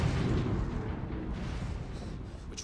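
A deep, rumbling explosion in the World War II shooter Call of Duty: World at War rolls on as a continuous, loud low roar that slowly fades, with no voices.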